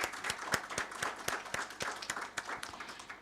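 Audience applause at a UN Women ESG launch event, a fairly quiet, moderately distant crowd clapping in a steady patter of distinct hand strikes throughout.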